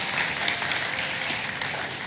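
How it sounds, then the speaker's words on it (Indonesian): Applause from a church congregation at an Indonesian Assemblies of God worship service, a steady, dense wash of clapping filling the room throughout, fairly loud and without speech over it. "Kasih tepuk tangan buat Kevin."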